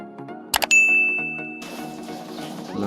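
A Samsung A22 smartphone plays its first-boot chime: a couple of quick taps, then a bright ringing ding that sustains and slowly fades as a soft swelling tone rises underneath.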